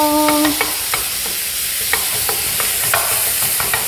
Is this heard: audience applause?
no